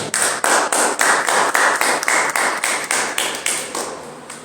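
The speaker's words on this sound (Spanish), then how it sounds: "Brindémosle un fuerte aplauso" An audience at a civic gathering in Ecatepec's mayoral hall claps in loud, regular unison beats, about four sharp claps a second, fading slightly toward the end.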